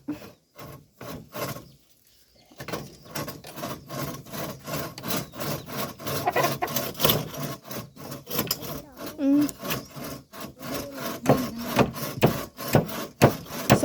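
A hand saw cuts through wood while a small bamboo-and-wood shelter is extended outdoors, with steady, rhythmic back-and-forth rasping strokes close by, a brief pause early on, and then continuous sawing.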